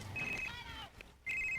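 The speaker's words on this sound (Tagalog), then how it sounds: "Kinsa man ang cellphone?" A cellphone rings with a bright electronic ringtone, in short bursts separated by a brief gap, heard close by with faint background voices in the room.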